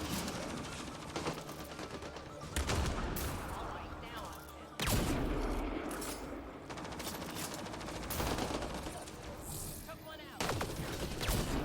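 Gunfire in a sci-fi shooter video game: repeated bursts of automatic fire and sharp shots come in clusters with brief gaps, loud and punchy over a layer of game sound effects.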